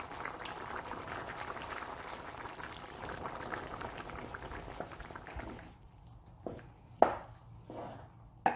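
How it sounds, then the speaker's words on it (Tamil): Chettinad vegetable white kurma with peas and potato boiling in a pot, a steady low bubbling simmer, then quieter with a few sharp pops and spoon clinks near the end. "ஒரு கொதி கொதிச்சிடுச்சு."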